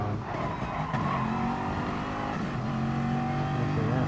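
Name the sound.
Audi race car cornering at half throttle, racing video game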